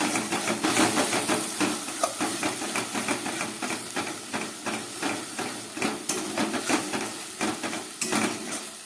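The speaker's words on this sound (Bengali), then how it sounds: "এবার দিয়ে দিচ্ছি পেস্ট করা টমেটো।" Tomato paste hitting hot oil with frying ginger, garlic and onion, giving a loud steady sizzle and hiss, with repeated spoon or spatula clacks against the pan all through and no voices.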